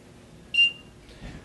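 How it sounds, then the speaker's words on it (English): A Handler MFG 2010DCU unit gives one short, clear electronic beep at the end of its cycle, followed by faint low handling noise in an otherwise quiet room. "the unit will flash and beep, indicating that it has completed its cycle"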